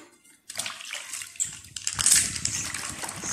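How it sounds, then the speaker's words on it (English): Makeup brush being washed in warm soapy water, giving close, continuous splashing and sloshing after a brief quiet start, with wet swishing that grows louder toward the end. "Just warm water and soap. Wash it and you will see it."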